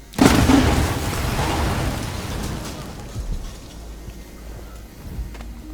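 A loud explosion blasts open a path in the video game Dishonored 2, opening with a sharp burst and then a rumbling, debris-filled roar that slowly fades.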